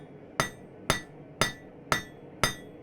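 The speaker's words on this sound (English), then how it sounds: "using this peen to come in here" A hammer's peen forging hot steel into a leaf-shaped bottle opener on an anvil: five sharp, ringing metallic strikes at an even, unhurried pace, close and clear with no talk.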